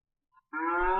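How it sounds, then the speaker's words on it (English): A single cow moos once, a loud, close, sustained bellow starting after a short silence and lasting to the end. "There's the cow."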